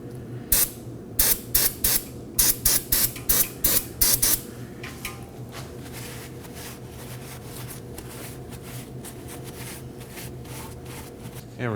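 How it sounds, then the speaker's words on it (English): Brake cleaner sprayed from an aerosol can onto the rear brake caliper area of a 2015-2023 Nissan Maxima: a rapid series of short, sharp hissing bursts, then quieter workshop background. "Clean the area with some brake cleaner and a rag."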